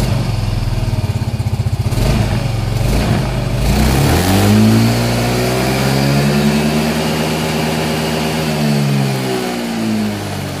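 Yamaha M3 motorcycle engine after a remap revs up hard toward its maximum RPM of over 9,000, with a loud rising whine and a sustained high-revving drone before easing slightly. Nobody speaks.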